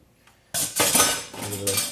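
A cup is lifted out of a bowl of cold water with a sudden burst of clinking and sloshing, a hard ceramic knock followed by dripping and rattling, fairly loud and close after a brief quiet.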